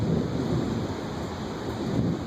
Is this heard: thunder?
yes